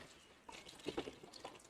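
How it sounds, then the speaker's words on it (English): Water is wrung from soaked bedding for a worm bin, giving a few soft, close splashes and drips in a brief burst after a moment of quiet. "Squeeze the fresh water out"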